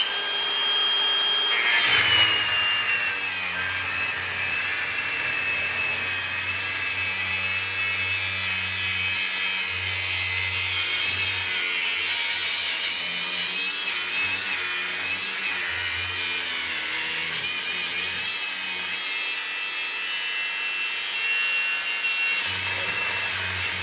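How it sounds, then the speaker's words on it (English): Cutoff wheel grinding through the heavy steel or cast iron casing of an electric motor being scrapped for copper, a steady high-pitched abrasive whine with a rumbling undertone, continuous for the whole stretch. "I'm gonna start cutting on this with a cutoff wheel"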